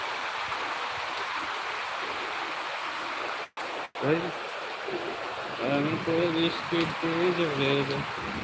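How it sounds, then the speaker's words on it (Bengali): Rain falls steadily in Dhaka with a continuous broad hiss, broken by two short gaps, and voices talk over the downpour in the second half. "এখন বৃষ্টি আছে"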